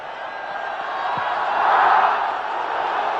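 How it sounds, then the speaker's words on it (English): Cricket stadium crowd chanting Dhoni's name as he bowls in a Champions Trophy match, a broad, steady roar of many voices filling the ground and swelling in the middle before easing slightly. "Cries of Dhoni, Dhoni go up around the ground"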